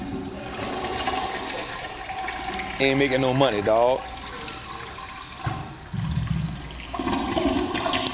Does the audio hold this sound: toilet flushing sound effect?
yes